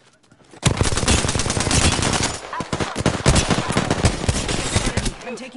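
Rapid automatic gunfire from submachine guns in an Apex Legends match, dense crackling bursts that start abruptly and continue nearly nonstop at high loudness, with brief gaps between volleys.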